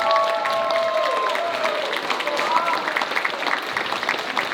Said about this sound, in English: So please give them a huge round of applause.